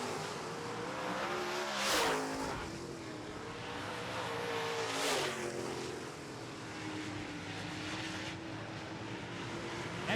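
Late model race cars roar around the track in a close late-race battle, their engines rising and falling as several pass near in turn, each pass swelling then fading against a steady background drone.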